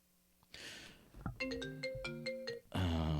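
A melodic phone ringtone plays a short series of bright electronic tones, close and clear, preceded and followed by brief rustling noise, interrupting a live Clubhouse audio chat.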